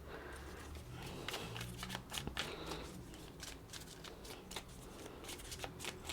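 Tarot cards being shuffled by hand in a steady stream of papery riffles and soft slaps, close and continuous with no talking.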